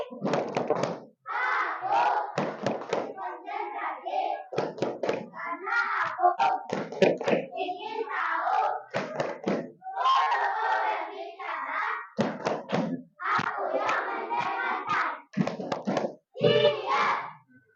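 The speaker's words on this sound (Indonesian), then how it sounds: "ibu minta kita tepuk konsentrasi dulu ya. Tepuk konsentrasi" Schoolchildren in an Indonesian classroom perform a rhythmic concentration clap: patterned bursts of hand claps alternate with loud chanted group voices in a call-and-response rhythm, close and lively.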